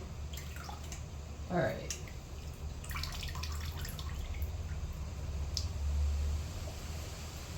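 Potatoes are dropped into water for preserving, giving soft splashes and drips near the microphone, with someone speaking briefly.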